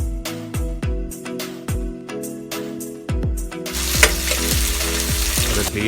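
Onion frying in a pan for mushroom pulao crackles under a run of sharp spatula clinks and taps against the metal, with the sizzle swelling louder and denser over the second half.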